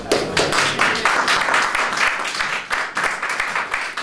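A church congregation claps together in steady, dense applause that continues evenly throughout, with no talk over it.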